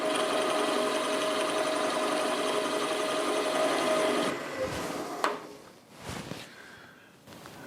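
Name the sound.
milling machine cutting at 700 rpm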